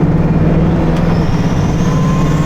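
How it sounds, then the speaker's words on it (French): Bugatti Chiron Super Sport exhaust, a loud, deep, steady engine drone with a strong low hum, heard close by and without pause. "l'échappement sur la Super Sport est quand même beaucoup plus sonore que sur la Chiron normale"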